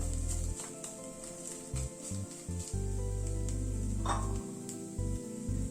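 Chicken fries with spices in a pan, a steady soft sizzle that continues underneath a loud, intermittent low droning hum that starts and stops in uneven blocks.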